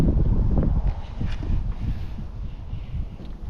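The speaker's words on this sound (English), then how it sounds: "it's really windy" Strong wind blows across open hills, buffeting the microphone with a loud, gusty roar that is heaviest at the start and stays steady after that.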